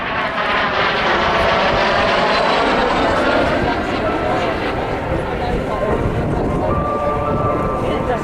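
A fighter aircraft of Korean War vintage flies past at the Southport Air Show, its engine a steady, loud roar that holds for the whole stretch while a commentator talks over it.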